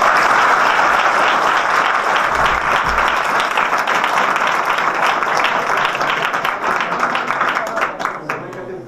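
Students in an audience at a motivational speech clap loudly, a thick, continuous wash of applause that holds steady before tapering off near the end.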